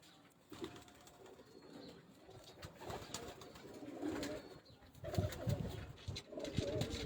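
A golden domestic pigeon coos softly among other birds in a loft, low repeated burbling calls against a steady busy background of rustling and distant noise.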